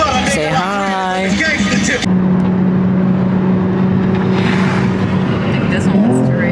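A Mercedes C63 AMG engine runs loud and close with a steady, deep hum that rises in pitch near the end, and voices are heard over it.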